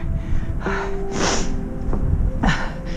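Several short nasal sniffs and snorts in quick succession, close to the mic, over steady outdoor wind noise on a hike near a fire tower.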